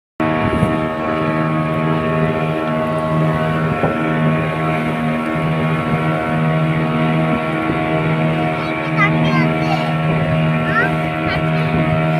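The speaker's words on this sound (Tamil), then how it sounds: "இதுதான் நம்ம போட்." A motorboat engine drones steadily in Pondicherry, a loud, close, even hum that holds throughout, with faint background sounds along the water and no talk.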